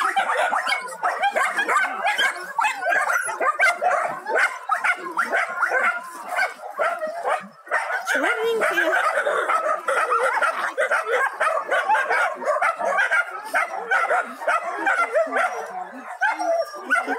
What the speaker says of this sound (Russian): Трогательная собачка.